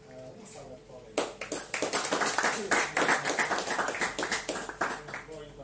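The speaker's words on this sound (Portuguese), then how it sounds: "Uma salva de palmas" An audience at an education talk breaks into applause: a dense, steady burst of many hands clapping that starts abruptly after a brief spoken moment and carries on loudly to the end.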